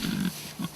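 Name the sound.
pigs grunting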